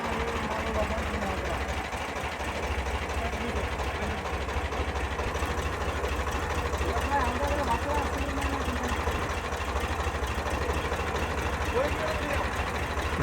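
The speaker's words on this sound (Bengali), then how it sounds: "এখন ট্র্যাক্টরটা নামাবো।" A tractor engine idles steadily while the machine is unloaded from a boat at a riverbank, a continuous low rumble with voices talking over it.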